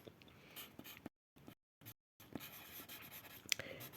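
A pen scratches out handwriting during a grade 8 maths lesson in short, quick strokes with brief pauses, close and fairly quiet, with no talking.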